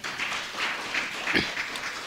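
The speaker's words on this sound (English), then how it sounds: "Can we give those words a round of applause, colleagues?" Seminar audience applause, a soft, fairly distant patter of clapping that swells slightly and holds steady over a couple of seconds.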